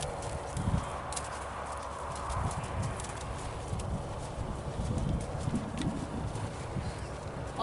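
A ridden horse clip-clops at a walk, its hooves thudding in an even rhythm close by, with faint birdsong in the background.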